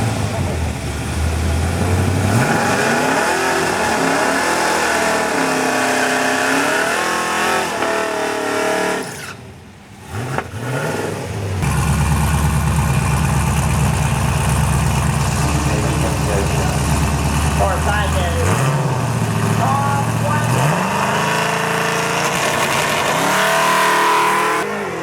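A Camaro makes a drag racing pass down the track at a street car event. The engine howls loudly and climbs through gear changes, drops briefly, then roars again with sustained revving and crowd noise underneath.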